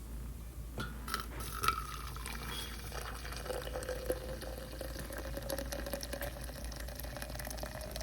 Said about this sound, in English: Take some boiling water and add it to the tea.